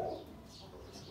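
Pigeons kept and bred in a home loft cooing, a soft low coo at the start followed by quieter murmuring in a calm, close space.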